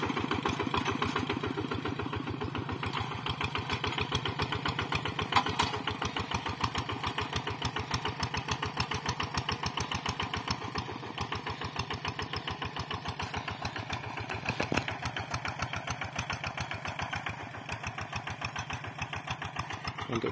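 A Quick G3000 cultivator engine runs steadily in a field prepared for chili planting, an even rapid mid-pitched putter holding at moderate distance for the whole stretch with no talk.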